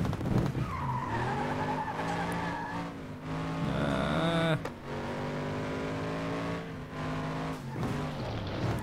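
A heavy car slides on spilled oil in the racing game FlatOut 2, with a continuous engine drone and a long skidding tire whine over a steady, loud bed of game audio.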